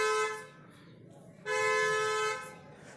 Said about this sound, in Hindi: ये कार का हॉर्न कहाँ से आ रहा?